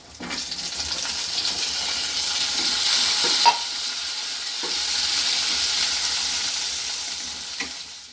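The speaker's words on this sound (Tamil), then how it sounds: "இந்த தக்காளியும் போட்டு வதக்கிக்கலாம்" Onion and tomato sautéing in a pan for a green gram curry, with a steady close sizzle and occasional stirring scrapes and clinks, no talking.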